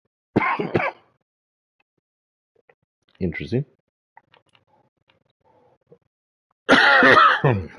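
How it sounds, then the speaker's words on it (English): A few short, harsh coughs come in separate bursts with quiet gaps between them, close up, and a brief spoken word in between. "Sorry about the coughing."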